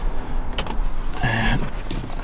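Mazda MX-5 NC soft top lowering with a short electric motor whir and mechanical clunks, close and moderately loud over a steady idling engine hum.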